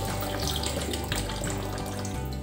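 Steady running tap water pours continuously into a sink, a full broadband rush with no break for the whole stretch.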